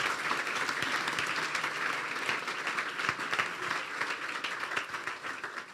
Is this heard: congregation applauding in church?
yes